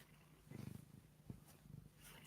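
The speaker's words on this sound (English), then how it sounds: "Don't know if you can hear her purring." A cat purrs softly near the microphone, a low, rhythmic rumble pulsing in short waves against a quiet background.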